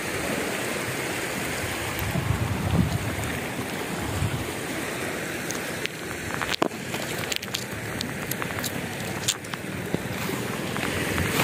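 Seawater surges and washes over a shoreline as the tide comes in, a continuous rushing wash with scattered splashes and crackles, close and fairly loud throughout.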